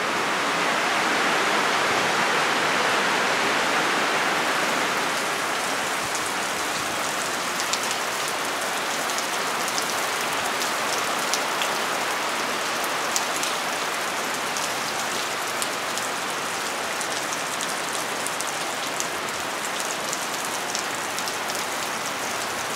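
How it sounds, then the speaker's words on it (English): Heavy tropical rain pouring down in Costa Rica near a banana tree, a steady dense hiss of drops that stays loud and even throughout with no voices. "It just started pouring."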